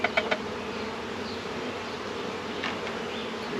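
Bees in a swarm trap give a steady, close, continuous buzzing drone, with a few sharp taps in the first moments and no voices.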